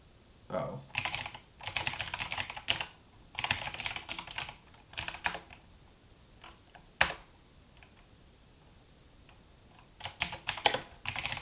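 Bursts of typing on a computer keyboard during front-end web coding, quick clustered keystrokes in several runs separated by short pauses, close and fairly clear.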